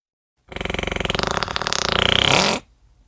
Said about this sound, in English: that fart was like jet propulsion